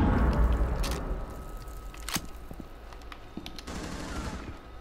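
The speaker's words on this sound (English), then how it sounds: "I shot her in like the shoulder" Video game gunfire bursts out in a rapid fusillade, then scattered single shots and clicks follow at moderate loudness, with no speech.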